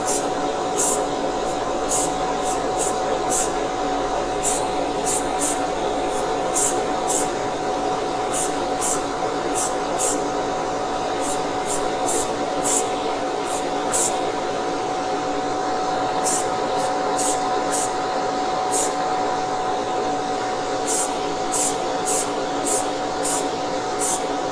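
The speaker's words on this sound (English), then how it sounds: "we're going to start spraying this one" A Corgi die-cast model car is spray painted after masking, with a steady, loud spray hiss running throughout and faint regular clicking over the top.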